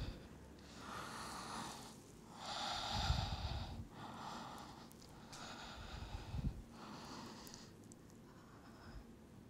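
Slow yoga breaths during a pregnancy yoga session, each inhale and exhale drawn audibly through the nose and mouth in a steady rhythm of about four soft, breathy cycles, close and quiet with no talking.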